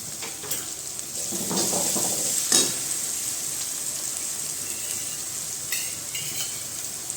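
Capsicum and cabbage with ginger-chilli paste stir-fry in hot oil for Manchurian, with a loud, continuous close sizzle and a few sharp spatula scrapes early on.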